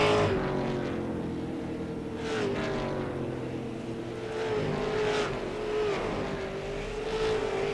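Late model race cars racing at Langley Speedway, a continuous engine drone rising and falling as cars lap the short oval, heard from a distance with swelling passes.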